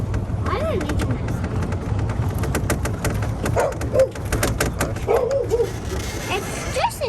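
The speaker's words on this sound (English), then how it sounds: "It's just a dog." A dog barks and yips a few times at a moderate distance, mixed into background noise and nearby talk around a garage where a free golf cart is being worked on.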